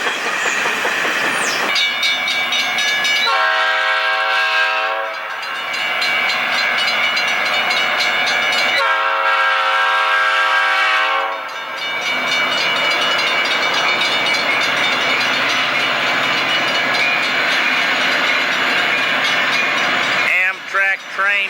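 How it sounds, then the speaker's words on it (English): Amtrak California Zephyr passenger train in Galesburg, Illinois sounding long, loud multi-tone horn blasts as it rolls by, with continuous wheel and rail clatter throughout. "Amtrak train number 5, the California Zephyr, Galesburg, Illinois."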